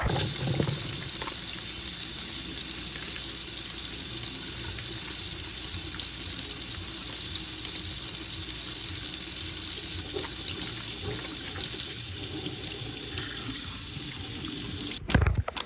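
Tap water running into a sink during handwashing, a steady close hiss and splash that continues unbroken, ending with a few brief knocks as the flow stops.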